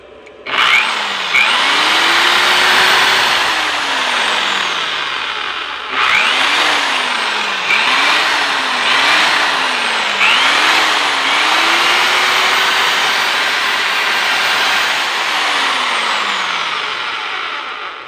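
A power drill whirs loudly in several bursts, its pitch rising and falling as it speeds up and slows under load, with brief pauses between.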